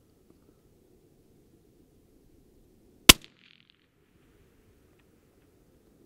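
A single sharp rifle shot in a sniper training session, one loud crack with a quick echo, standing alone amid quiet low background rumble.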